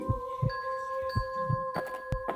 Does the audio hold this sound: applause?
no